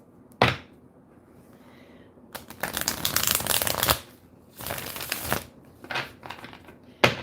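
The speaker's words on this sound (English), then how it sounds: "One more shuffle" Tarot cards being shuffled by hand in several separate bursts of riffling and slapping, close and fairly loud, with brief quiet pauses between them and no talking.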